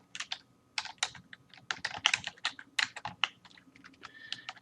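Fingers type a file name on a computer keyboard in quick, uneven bursts of close, crisp key clicks with short pauses between them, no voice over it.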